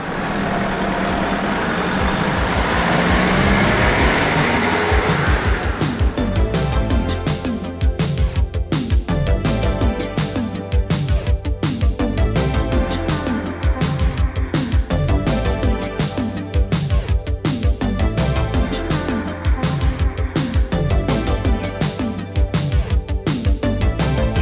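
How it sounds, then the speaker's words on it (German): Dense traffic with many cars and trucks passing near Lima, Peru, a loud continuous engine roar with rumbling low end and repeated rapid clattering passes, no talking. "Es ist schon viel zu viele Autos"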